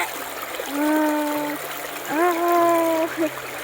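Fresh water runs and splashes in a steady flow at a farm, close and continuous, while a voice talks over it.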